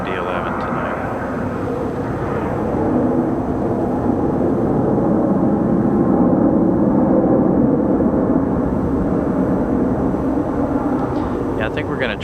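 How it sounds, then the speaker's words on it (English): McDonnell Douglas MD-11 airliner at Raleigh-Durham International Airport, a loud continuous engine roar that swells through the middle and stays strong to the end, with no talk over it. "I want to crank it up so you guys can hear the MD-11 tonight."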